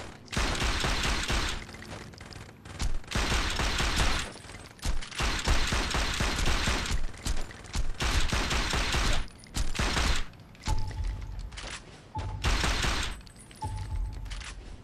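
Rapid bursts of gunfire from the Saints Row 2 video game crackle loudly in repeated volleys, sustained automatic fire broken by short pauses and a few mechanical clicks, with no talking over it.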